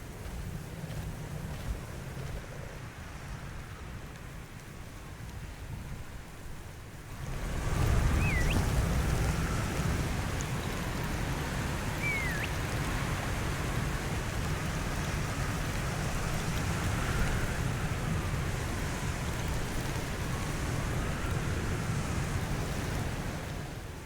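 Wind blows through an icy area in the video game Herdling, a steady rushing gust that swells suddenly and then stays loud and constant with a few faint distant cries.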